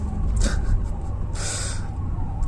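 A police car siren wails at a distance over outdoor ambient noise at Brajghat, its rising tone sounding for a couple of seconds.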